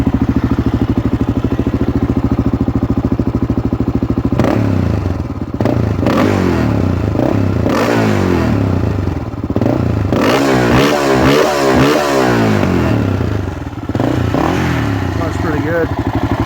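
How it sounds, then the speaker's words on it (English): Honda TRX400X ATV engine fitted with a Lexx MXe slip-on exhaust, revving loudly in repeated throttle blips over a steady rumbling idle, close by, with some speech-like tagging but no clear words. "Here's what it sounds like. I'll rev it up a little bit."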